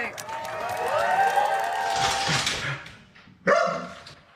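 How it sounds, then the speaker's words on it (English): A dog barks and whimpers excitedly in greeting, a few close barks over crowd murmur, then a sharp louder burst near the end. "Christina Cook's dog, of course, had no idea where she went, but she warmly greeted the mission specialist back from cold space"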